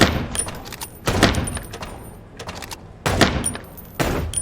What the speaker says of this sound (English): Fucking revolver reloads.